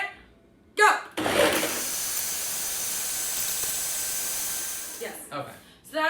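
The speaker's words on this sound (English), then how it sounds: "So that was about 5 minutes in the blender with all of those ingredients." A blender mixes coffee and coconut popsicle ingredients with a steady, loud whirring roar lasting about four seconds. Brief voices come just before it starts and again after it stops.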